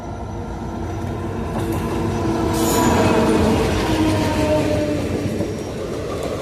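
A train runs along the Kumarghat railway line, its steady rumble and rail noise filling the scene close by and swelling slightly at the middle before easing off, with no voices.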